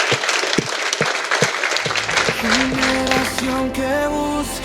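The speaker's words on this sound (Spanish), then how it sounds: "Den un aplauso de adoración al Rey." A church congregation at a worship service claps in applause, first in scattered bursts and then a fuller patter, as sustained organ or keyboard tones enter underneath.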